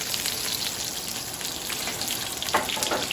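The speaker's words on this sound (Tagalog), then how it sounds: "Okay na, nag-produce na po siya ng mantika na pwede natin gamitin. Okay. So, lagyan na po natin yung ating bawang sibuyas." Garlic and onion sauté in rendered pork fat with a dense, steady crackling sizzle like rain, close up, a few stirring scrapes toward the end and no talking.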